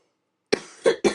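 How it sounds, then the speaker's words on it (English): Three sharp coughs from a woman with an autumn cold, after a short silence: one single cough, then two more in quick succession, close and fairly loud, with no talk around them. "please ignore my coughs."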